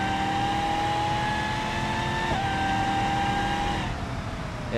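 Chevrolet Silverado pickup engine in the BeamNG.drive driving game, a steady loud drone with sustained tonal whine that shifts pitch slightly as it runs, then drops near the end.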